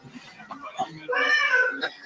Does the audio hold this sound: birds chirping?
no